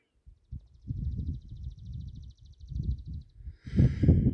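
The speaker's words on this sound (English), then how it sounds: "I just heard a very beautiful bird chirper." A faint, rapid series of high chirps from a bird carries over loud low rustling and handling noise, followed by a brief brighter burst near the end, on a trail in Golden Gate Canyon State Park.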